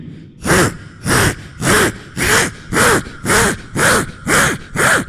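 A voice mimics cutting an aluminium section with nine evenly spaced, rasping buzzy bursts, each rising and falling in pitch, close and fairly loud, performed as a mimicry act at a Kerala school arts festival.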